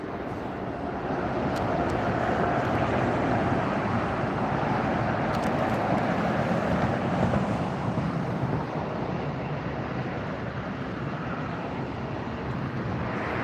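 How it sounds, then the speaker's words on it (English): Avianca airliner taxiing at LAX airport: a steady, broad jet engine rumble and roar that holds fairly constant and moderately loud throughout, with wind noise and no voices. "we've got Avianca taxiing up now"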